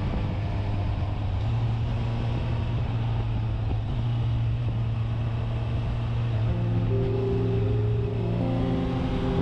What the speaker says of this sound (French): c'est un beau 4 cylindres